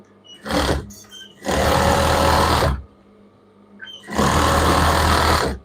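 Domestic sewing machine stitching children's pajama fabric, running in three close, loud bursts separated by short pauses, with no one talking.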